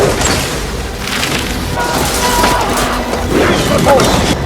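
A massed archers' volley erupts in a large Lord of the Rings battle video game, heard as a dense, continuous roar of booming impacts and clashing battle noise with shouting voices buried in the din.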